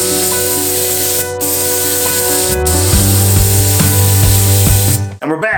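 Spray gun laying primer coats on a Harley-Davidson FXR, a loud continuous hiss of atomized paint over a compressor drone, cutting off abruptly near the end.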